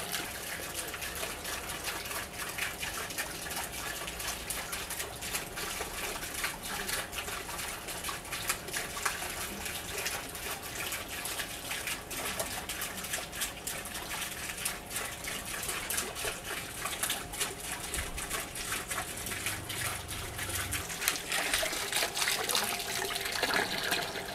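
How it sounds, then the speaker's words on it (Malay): A solar-powered 12 volt water pump with no battery, feeding an aquaponics setup for sea bass, sends out a steady, continuous gush of flowing water that holds at an even level throughout with no voices over it. "kemudian kita sambungkan kepada pump. Inilah kekuatan yang kita dapat."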